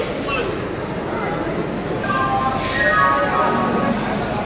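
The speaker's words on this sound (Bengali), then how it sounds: "ব্যস্তময় হাওড়া স্টেশন।" Busy Howrah railway station concourse in a steady, dense wash of crowd noise and rail ambience, with voices throughout and a faint tonal call or announcement rising midway.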